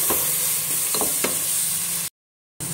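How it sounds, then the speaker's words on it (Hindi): Carrots sizzle steadily in a hot pan of oil, a close, even frying hiss with a few soft stirring taps, then a short break in the sound. "मैं यहीं पे ही इसमें जो डाल दूंगी गाजर, क्योंकि गाजर थोड़ी देर से कुक होती है"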